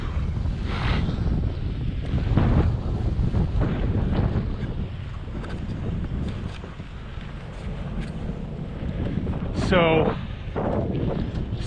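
Cold wind roars across the microphone while riding a bike through New York City, a constant heavy low rumble with gusty swells throughout and a brief whistling chirp near the end.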